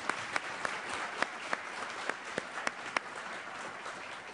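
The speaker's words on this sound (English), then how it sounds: "I'd like you to give them a great round of applause" Audience at a foreign policy briefing for Historically Black Colleges and Universities breaking into steady applause, a soft, even wash of clapping with a few sharper claps standing out near the microphone.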